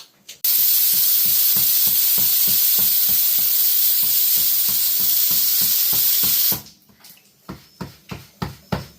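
A pressure cooker on a gas stove in a home kitchen on a rainy day releases a loud, continuous hiss of steam for about six seconds. The hiss then cuts off and leaves a series of rhythmic, softer puffs.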